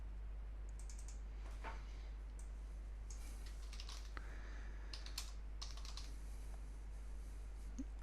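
Quiet, close computer keyboard typing, scattered bursts of soft key clicks with short gaps between them over a low steady hum.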